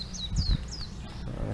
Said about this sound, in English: the birds are going